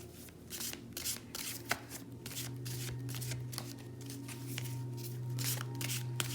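Tarot cards shuffled, a dense run of quick riffling flutters and soft slaps close by, ending as a card is drawn from the deck, with no talking.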